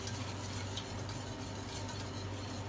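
An orange tart filling is stirred steadily in a pan, a dense continuous scraping and swishing with a low cooking hum underneath, close and even with no talking.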